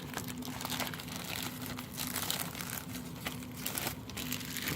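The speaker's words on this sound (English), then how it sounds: "somebody even put this sucker in a plastic bag" Steady close-up crinkling and rustling of thin plastic, continuous and crackly throughout with no voices.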